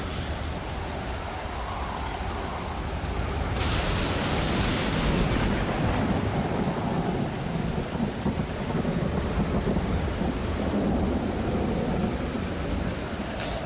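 A thunderstorm with rain in the survival game Stranded Deep: a steady wash of rainfall and wind with a rolling thunder surge partway through, continuous and even in level.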